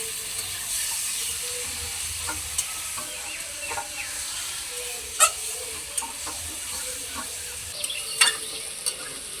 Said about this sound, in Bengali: আলু পটল দেওয়ার পরে এখন মশলার সঙ্গে আলু পটলগুলোকে ভালোভাবে মিশিয়ে নেব।